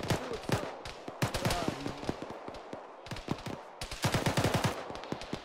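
Rapid bursts of gunfire crackle through a firefight in the military shooter Arma, with sharp clustered volleys stopping and restarting over several seconds while radio-style voices talk over the shooting.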